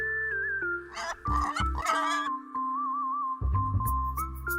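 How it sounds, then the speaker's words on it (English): Pig oinking in a children's farm-animal sequence, a few short grunting calls over a steady tonal background, fairly close and clear. "pig,"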